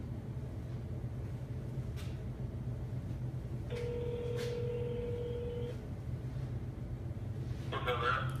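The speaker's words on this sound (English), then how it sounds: "I gotta get Greg on the phone" A phone call being placed gives off a steady electronic tone lasting about two seconds over a constant low background hum, with a short burst of other noise near the end.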